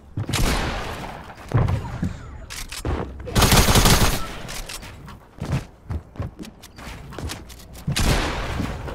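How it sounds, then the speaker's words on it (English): Rapid gunfire in Fortnite's Rift Zone, bursts of automatic shots and heavy thuds crackling in irregular volleys throughout, loud and close, with brief pauses between clusters. "Getting shot from somewhere else."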